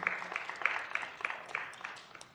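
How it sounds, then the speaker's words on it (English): Audience applause at a legislative budget and public employees committee hearing: a short burst of scattered clapping from a modest crowd in a meeting room, fairly quiet and fading out. "give yourselves a round of applause for being here"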